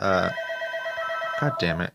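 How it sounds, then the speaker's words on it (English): An old-style telephone bell rings loudly and close by, in a continuous trill that briefly pulses at the end, while a person speaks over it. "Sorry about the phone ringing"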